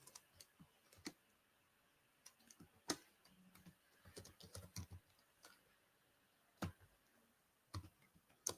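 Code being typed on a computer keyboard in a programming lesson on lists: sparse, irregular clicks with some quick clusters and pauses between them, close and quiet, with no talking.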